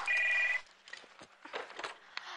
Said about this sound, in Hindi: वो फोन उठा दी जाना